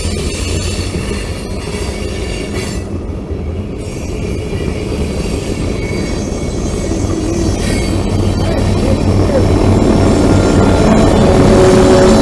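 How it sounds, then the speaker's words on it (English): Loud, continuous rumble of a passing CSX freight train, its mid-train diesel locomotive roaring by, with grinding wheels and steady mechanical roar building slightly toward the end. "The sound of the DPU as it comes by in its own roar in the middle of the consist."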